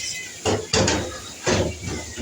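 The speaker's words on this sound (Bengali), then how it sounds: "মা ওখানে ভাজছে ইলিশ মাছ।" Hilsa fish fries in a pan with a close, continuous sizzling hiss, swelling in a few louder bursts as the pieces shift in the oil.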